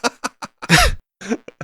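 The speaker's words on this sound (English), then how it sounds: "She coughs her ass off after hitting this thing" A woman's coughing fit: a rapid series of harsh, close coughs with a longer raspy hack in the middle, heard alone without talk.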